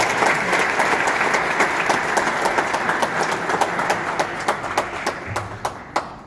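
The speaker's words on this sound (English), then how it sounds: "Please give yourselves a round of applause" Audience applause at a Kosovo Independence Day celebration in New York City, sustained clapping from a large crowd that thins toward the end into fewer, distinct claps.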